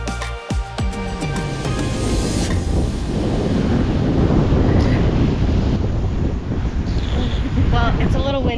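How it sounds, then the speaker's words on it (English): Strong wind gusts buffet the microphone at a Grenada beach, a dense, steady roar with low rumbling that holds loud and continuous throughout. "it's a little windy"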